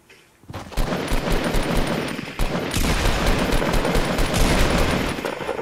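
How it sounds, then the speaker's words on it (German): Gunfire in the mobile version of Fortnite rattles in loud, rapid automatic bursts and repeated shots that run almost without a break after a brief quiet start. "Ey, ich höre Gegner schießen."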